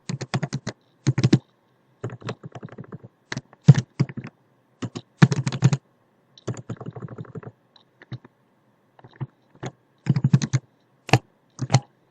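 Someone types on a computer keyboard in close, crisp bursts of clicking keystrokes separated by short pauses, with no talking.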